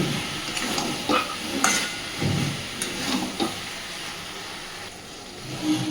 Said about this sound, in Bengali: বেশ 3-4 মিনিট সময় নিয়ে সয়াবিনটাকে আগে একটু কষে নেব।